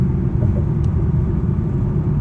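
A car drives along a road, its engine and tyres giving a steady close low rumble with no other sounds.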